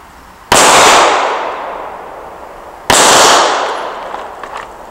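Two loud pistol shots from an M&P fitted with a red dot optic, fired at a target on a range. The shots are a couple of seconds apart, and each leaves a long reverberating decay.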